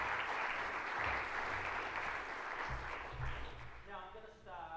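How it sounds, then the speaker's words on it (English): Audience applauding panellists at a climate action event, a steady dense wash of clapping sustained throughout, with voices emerging over it near the end. "What about a round of applause for our panellists?"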